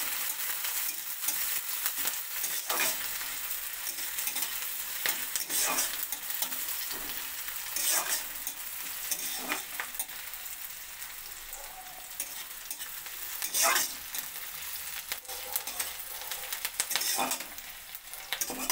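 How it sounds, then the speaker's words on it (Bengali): Chopped onion frying lightly in hot oil while potatoes wait for the pan, a steady close sizzle broken by occasional stirring scrapes, with no talking. "তেলের মধ্যে দিয়ে দেবো একটা পেঁয়াজকে কুচি করে নিয়েছি। পেঁয়াজ কুচিটা দিয়ে দেবো। পেঁয়াজটা ভেজে নেবো হালকা।"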